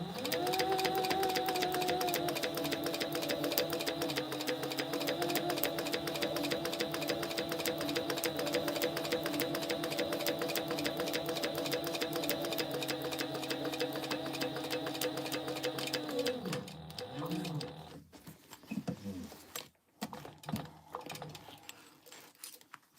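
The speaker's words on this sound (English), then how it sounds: "Now we're going to top stitch. Eighth of an inch. I'm just going to back stitch once." A sewing machine top stitching a crossbody bag, a steady rapid whirring drone with a fast rhythmic needle clatter for about seventeen seconds, then slowing and stopping with a few clicks and handling sounds.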